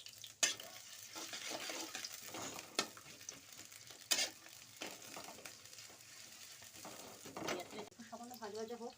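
Onions frying in oil in a wok, with intermittent stirring scrapes and soft sizzling; a voice talks over it, and a short tonal sound rises near the end.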